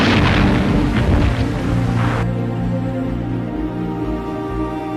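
Deep, rumbling World War I artillery bombardment in trench warfare, a loud heavy boom that rolls and fades into a sustained low droning rumble, with no voices.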